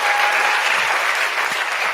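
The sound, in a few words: audience applause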